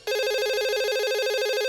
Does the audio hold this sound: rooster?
no